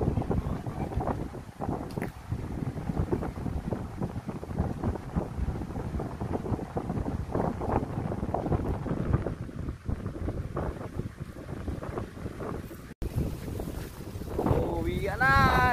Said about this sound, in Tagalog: Lakas ng hangin talaga, hindi mapigilan na yan oh